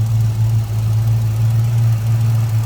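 A 1969 Ford Falcon's 302 V8 idles close up, a steady loud low rumble with a faint rhythmic pulse and no voices.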